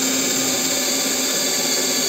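A steady, high-pitched mechanical whine of a TopShak TS-ED1 cordless hammer drill with cobalt bits running continuously, loud and close, with no pauses or voices.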